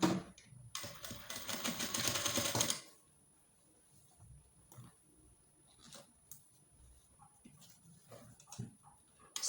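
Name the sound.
sewing machine sewing a corset busk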